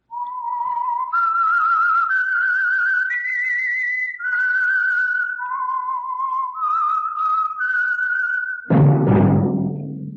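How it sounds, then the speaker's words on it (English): A clear whistled melody of several held, gliding notes plays alone, the signature of the Signal Oil radio program The Whistler, ending with a sudden burst of orchestral music. "That whistle is your signal"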